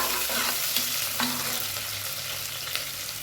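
Sliced large onion frying in a pan with curry leaves for a mutton intestine (kudal) gravy, a steady close sizzle with occasional stirring scrapes and no talking.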